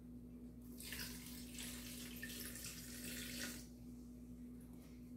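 Coconut water poured into a blender makes a soft, splashing stream that starts and stops after a few seconds over a faint steady hum, quiet and close.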